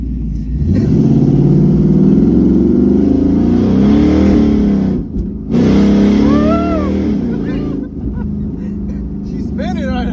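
A Ford Mustang S550 with turbos and an MSD two-step revs hard and loud while its wheels spin, engine pitch climbing and falling in surges, with a brief cut partway and voices shouting over it.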